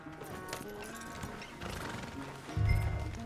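A horse in the video game Red Dead Redemption 2, heard as soft hoof clops and a whinny over game ambience, followed by a heavy low thump near the end. Fairly quiet overall.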